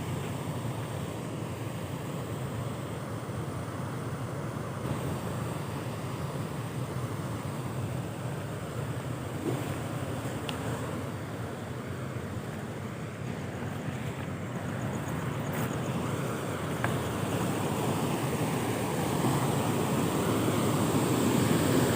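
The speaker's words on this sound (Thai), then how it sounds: "น้ำก็ยังไหลอยู่เหมือนเดิมนะครับผม" Water flowing at a forest creek at half past five in the morning, a steady broadband rush that holds evenly and swells slightly louder toward the end, with no voices.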